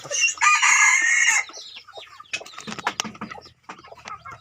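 A rooster crows loudly nearby, then crossbred Thai-Leghorn chickens cluck and squawk in short bursts amid scratching and pecking sounds on a farm.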